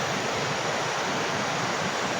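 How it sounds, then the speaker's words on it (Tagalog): A strong creek rushes and churns with a steady, dense broadband roar of flowing water, loud and continuous throughout with no voices. "Ayan yung sapa. Ayan. Ang lakas ng alon."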